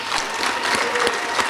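Banquet audience at a hospitality industry awards dinner applauds the nominees, a steady patter of many hands clapping at moderate volume with no voices.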